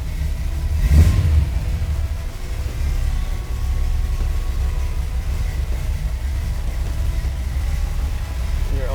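A 1964 Corvette Sting Ray engine rumbles and revs loudly nearby, with a sharp burst of throttle early on, then settles into a steady deep drone as the car pulls away.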